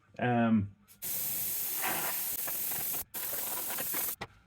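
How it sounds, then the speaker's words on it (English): An airbrush sprays Fastrax Fast Finish black paint at a slightly higher pressure, giving three close bursts of steady hiss separated by brief pauses. A short voice comes just before the first burst. "I'm spraying at a slightly higher pressure with this"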